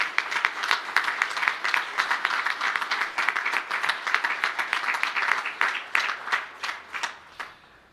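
An audience at a school merit ceremony applauding students, steady dense clapping from many hands throughout, thinning out and tapering off toward the end.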